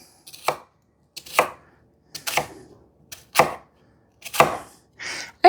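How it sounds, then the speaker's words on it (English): A knife chops through cabbage on a cutting board in about seven separate, crisp strokes spaced roughly a second apart, close and clear against silence, with no talking. "So I'm going to chop this up."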